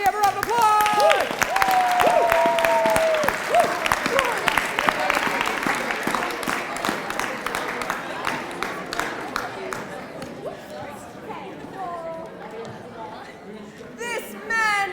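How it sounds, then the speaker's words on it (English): An audience at a school staging of Shakespeare's A Midsummer Night's Dream claps for students joining the play, with children's voices and chatter mixed in; the clapping fades gradually while voices continue. "Can we have a round of applause?"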